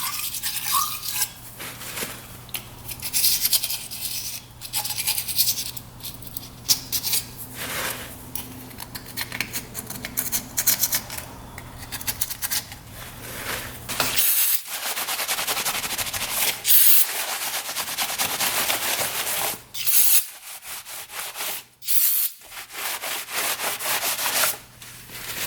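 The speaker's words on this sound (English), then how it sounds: "See if that scrapes off with a razor blade." A razor blade scrapes carbon residue off an engine part from a Kubota diesel UTV, with repeated close rasping strokes in an uneven rhythm and a few brief pauses.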